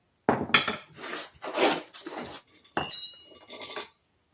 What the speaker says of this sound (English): it's going to get loud because I have a hammer